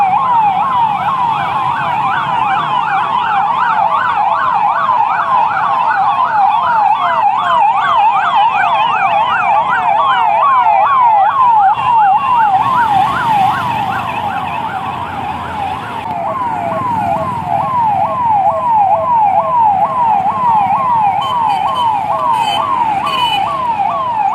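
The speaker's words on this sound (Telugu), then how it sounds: "మొత్తం సైరన్లు వేసుకుని టౌన్లో స్లోగా అలా వెళ్తున్నాయి" Several police car sirens wail continuously in fast, rising-and-falling cycles, loud and steady, as the cars drive slowly through town with traffic rumbling underneath.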